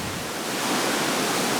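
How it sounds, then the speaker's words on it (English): Flowing Himalayan mountain stream, a loud, close, continuous rush of water with broad hissing turbulence that builds slightly and then holds steady. "But that's flowing water."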